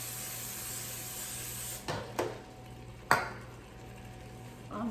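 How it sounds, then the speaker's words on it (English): A can of cooking spray hisses briefly onto a pan while making potato moussaka, with a few clinks of metal cookware around a short burst of spray in a quiet kitchen. "I'm going to spray my pan."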